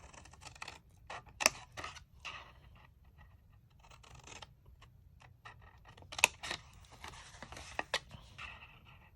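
Cardstock being cut with scissors along score marks for a small treat box, a series of close, crisp snips and rasping strokes with short quiet gaps, no talking.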